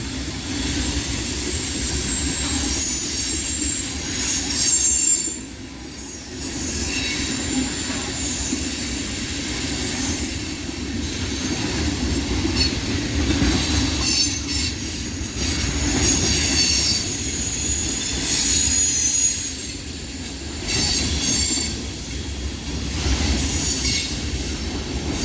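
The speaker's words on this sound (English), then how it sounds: "Man, it's a long train." A long CSX mixed freight train with EMD locomotives rolls past at night, its railcars producing a loud, continuous rumble with rhythmic wheel clatter and occasional squealing wheels, sustained throughout with only brief dips in intensity.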